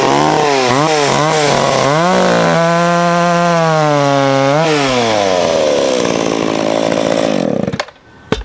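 A vintage McCulloch chainsaw, a 610 or 650 model, cutting through wood: a few quick throttle blips, then a loud sustained high-revving cut that bogs and fades before the saw stops, heard close and alone.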